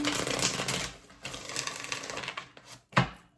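Tarot cards riffle and flutter in rapid papery bursts, followed by a few soft shuffles and one sharp tap near the end. The sound is close, quiet and heard alone.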